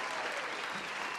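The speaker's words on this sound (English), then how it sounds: "Round of applause for that segment." A round of applause on a podcast, steady dense clapping throughout the short stretch, fairly loud and close with no break.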